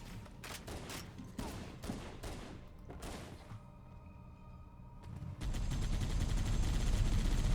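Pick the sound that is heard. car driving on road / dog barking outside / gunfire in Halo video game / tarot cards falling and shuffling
gunfire in Halo video game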